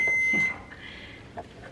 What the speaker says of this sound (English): is it gonna keep beeping?